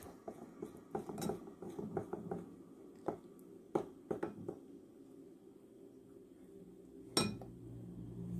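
A spoon knocks and scrapes against a bowl while olive oil is mixed into eggless date, walnut and coffee cake batter. The clinks are faint and irregular, with clusters of taps, pauses, and one sharper knock near the end.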